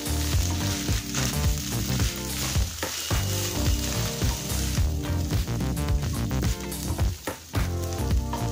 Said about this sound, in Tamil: நல்லா கிளறிக்கோங்க.